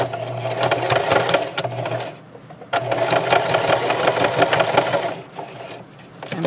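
A sewing machine runs a straight stitch in two loud, steady bursts of rapid needle chatter, separated by a short pause and ending with another brief stop.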